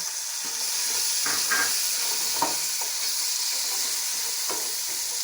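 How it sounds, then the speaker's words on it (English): Steady sizzling of onions frying with curry and thyme in a pan, a continuous hiss with small crackles and pops, close and fairly loud, no talking. "our onions is frying with the curry and thyme"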